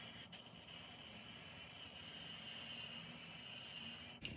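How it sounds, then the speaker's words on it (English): Hairspray hisses in a continuous spray around the edges of a glued bald-cap wig install, a steady close hiss that runs almost the whole length and ends abruptly. "you're gonna take your got to be glued hairspray, and you're gonna spray around your edges"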